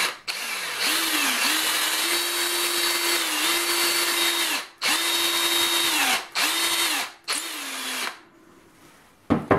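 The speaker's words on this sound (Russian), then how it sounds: "И сверлим." A power drill with a 5 mm bit whines steadily at high speed in several bursts, pausing briefly between runs, loud and close, then stops.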